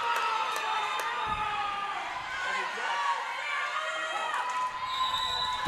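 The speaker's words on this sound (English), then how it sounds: "The crowd is very excited" Excited crowd noise fills a gymnasium during a close girls high school volleyball match against Salem, a steady wash of cheering and shouting voices with scattered whoops, loud and continuous throughout.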